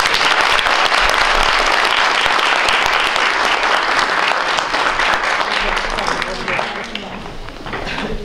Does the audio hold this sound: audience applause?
yes